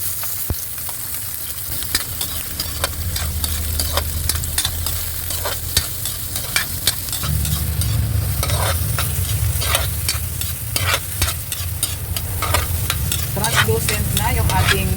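Onions sauté in hot oil, a continuous sizzle with frequent scraping and clinking from a utensil stirring the pan, growing louder and busier partway through.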